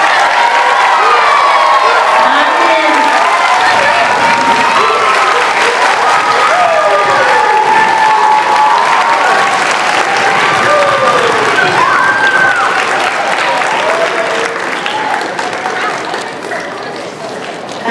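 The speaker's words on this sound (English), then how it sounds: "let's give these awesome kindergartners another round of applause" Families in a school hall at Heartland Elementary's kindergarten graduation give loud, sustained applause with scattered cheers and children's shouts, and the clapping tapers slightly toward the end.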